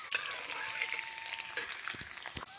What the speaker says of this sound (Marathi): कढई गरम झाली तेल टाकतो कांदा फोड त्याला